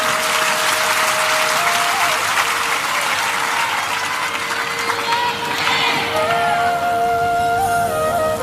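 Audience clapping at a Hindi religious satsang discourse: continuous, dense applause filling the whole stretch at a steady loud level, with a faint tonal hum and a few scattered higher tones near the end.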